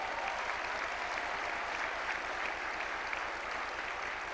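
A large crowd at an MLK breakfast event applauds in a continuous, even wash of clapping, steady in level from start to finish, with no voices standing out.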